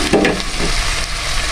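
Carrots sautéing in a hot pan for chicken sotanghon soup, a loud close sizzle with brief stirring scrapes near the start, settling into steady frying noise.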